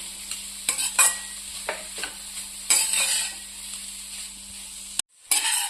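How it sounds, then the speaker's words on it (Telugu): A carrot and khoa sweet mixture sizzles and fries in a pan while a spoon scrapes and stirs it in irregular strokes, close and fairly quiet, with no talking. "ఇది ఇంకా కొంచెం ఫ్రై అవ్వాలండి."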